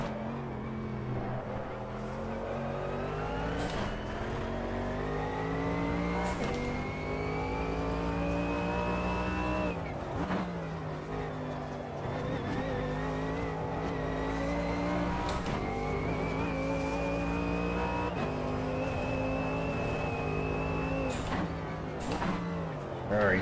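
A racing car's engine in a sim-racing game screams continuously at high revs, its harsh tone dipping sharply every few seconds as it repeatedly hits the rev limiter, while a voice talks underneath.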